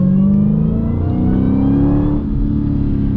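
A Dodge Challenger Hellcat Redeye engine revs hard and loud, pitch climbing under full throttle, then briefly dipping and pulling again, close by with no talking.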